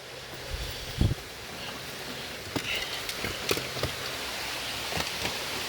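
Heavy monsoon rain begins to fall outdoors beside a 2013 Nissan Pathfinder with a flat tire, a steady broadband hiss with scattered sharp drop impacts and a few louder knocks across several seconds, no voices.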